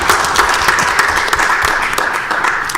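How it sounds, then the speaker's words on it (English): Audience applause at a law society career panel, steady dense clapping filling the room throughout without a break. "Now you could applaud again."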